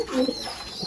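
Pigeons in a home loft cooing softly while feeding their chicks, a brief, close, low murmur of calls over faint background hiss.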